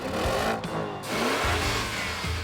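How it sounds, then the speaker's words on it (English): A Porsche Cayenne SUV engine revs and settles at a mid pitch, rising and falling twice over a couple of seconds, close and fairly loud with no voices. "The engines are incredibly powerful, and they sound really good too."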